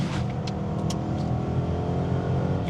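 Ford Mustang 5.0 V8 revving hard in third gear on a wet road: a loud, steady, throaty engine roar with rich low harmonics, close and sustained, with a few brief higher-pitched bursts on top.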